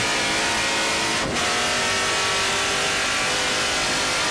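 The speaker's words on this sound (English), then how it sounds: "Beautiful sound of Sam Mayer's car" A TA2 race car engine at Road America roars loudly and continuously at high revs, with a brief dip as it shifts before screaming on.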